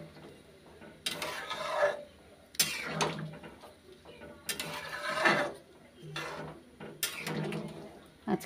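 A spoon stirs and scrapes a cooking pot of curry just after hot water has been poured in, in a home kitchen. Several separate scraping strokes come close and moderately loud, with quiet pauses between them.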